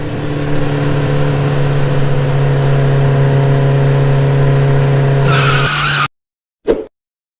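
Motorcycle engine revving in an Indonesian animated school film: a loud, steady engine drone holds for about six seconds, rises briefly near the end, then cuts abruptly, followed by a short separate burst.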